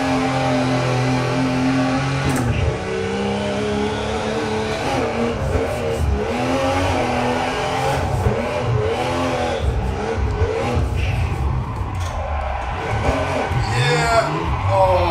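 A race car engine from a racing sim video game on a home sim rig revs and shifts loudly, pitch climbing and dropping through gear changes, with tire squeal at moments and a person talking over it.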